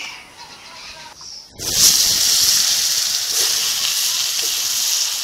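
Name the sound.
potatoes frying in oil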